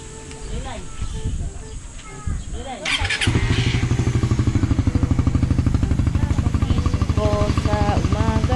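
A motorcycle engine fires up around the three-second mark and settles into a loud, steady, close putter, with household noise and brief voices before it.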